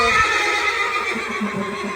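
A two-and-a-half-year-old mare about 65 inches tall, offered for sale, gives a loud, close, drawn-out neigh with wavering tones that carries through the whole moment.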